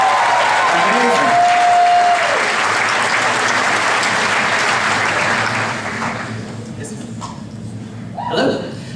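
A convention audience applauds a fan's Homelander outfit from The Boys, loud sustained clapping with some laughter that gradually thins out, a voice briefly heard near the start.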